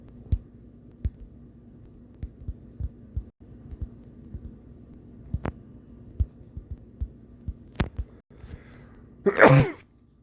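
A single sharp sneeze bursts out loudly near the end, close to the mic, after a stretch of quiet low hum broken by soft intermittent taps and thumps.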